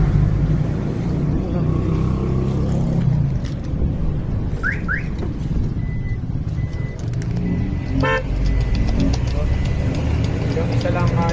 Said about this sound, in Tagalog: Gawa tayo busina.